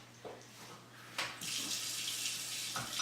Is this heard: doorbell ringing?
no